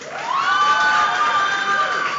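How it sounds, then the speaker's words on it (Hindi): An audience at a film song launch event cheers and whoops loudly, a sustained crowd roar with high shouts rising quickly and holding steady to the end. "लेडीज एंड जेंटलमैन, पहले जोरदार तालियां एक बार."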